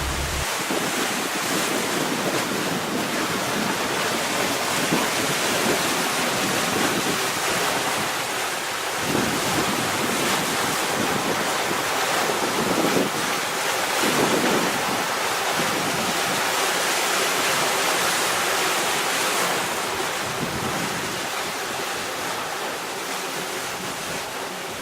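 Ocean waves roll and wash around a boat at sea with its engines off, a continuous loud rushing surge mixed with heavy wind buffeting the microphone, rising and falling over time without any voices.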